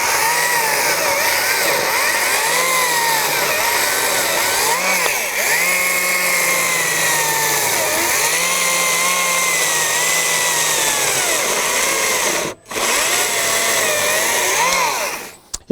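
A Stihl MSA 120 C 36-volt battery chainsaw runs continuously with a high electric whine that rises and dips as it cuts, loud and close, with a brief stop near the end.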